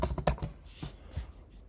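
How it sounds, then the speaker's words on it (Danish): Quick bursts of keystrokes on a Mac computer keyboard while a short name is typed into a Word document, close and fairly quiet, a few clustered taps then a pause and a couple more. "Her vil jeg bare skrive Anders."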